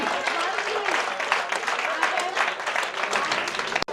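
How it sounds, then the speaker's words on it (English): An audience claps at a celebratory event, the applause mixed under a speaker's voice and crowd noise before a sharp thump near the end. "So can we applaud for that also?"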